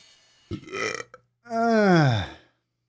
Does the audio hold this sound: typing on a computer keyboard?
no